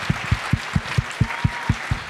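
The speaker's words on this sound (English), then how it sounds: "Can we give another round of applause for Mike?" At a tech conference keynote, thin applause rolls on beneath a strong, evenly spaced low thumping beat, the clapping modest and in the background.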